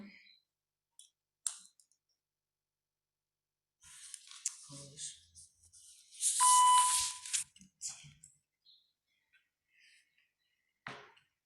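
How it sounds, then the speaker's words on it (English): Talking pen device with four buttons giving a single short, clear beep from its top button, surrounded by faint clicks and handling noise. "that is making the beep"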